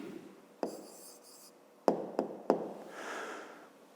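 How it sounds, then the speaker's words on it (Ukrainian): A pen writes an answer on paper during a fifth-grade maths exercise, with soft scratching strokes broken by several sharp taps as the pen meets the page, quiet and close. "Пишемо відповідь"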